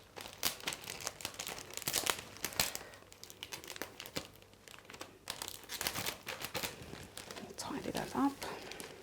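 Crinkly paper crumpled and rustled by hand while a cupcake bouquet is assembled, with close, irregular crackling bursts throughout and a voice heard at times.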